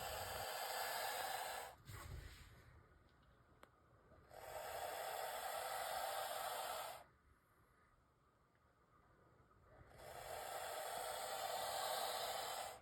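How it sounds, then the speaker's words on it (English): A boa constrictor hisses loudly and breathily in long bursts, broken by brief quiet pauses, with a few soft snorts between the hisses. "If you've never heard a boa hiss in person, let me tell you, they can hiss pretty loudly"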